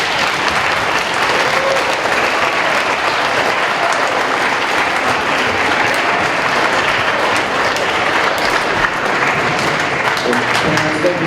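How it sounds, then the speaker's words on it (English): A school band concert audience breaks into loud, sustained applause, dense clapping filling the hall at even strength throughout, with a few cheers and voices mixed into the crowd noise. "raucous round of applause."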